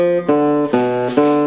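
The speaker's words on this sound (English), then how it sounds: "So diminished triad in this fingering sounds like this." A guitar plays a diminished triad chord, strummed three times in quick succession, each strum ringing clearly with sustained tones.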